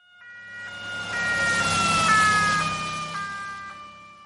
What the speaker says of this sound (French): Quand on entend cette sonnerie, pin, pon, pin, qui retentit, tout le monde se met sur le côté